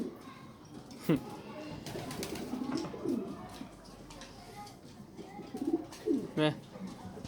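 Soft, low cooing from a dove or pigeon in a coop repeats a few times amid a busy background, with people talking nearby.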